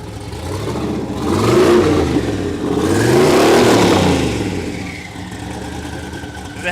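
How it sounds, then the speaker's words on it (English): A street truck engine at an LS engine festival revs hard in two rising-and-falling surges, bouncing off the rev limiter with a buzzy roar, then drops back toward idle, loud and close. "There you go, bouncing off the rev limiter"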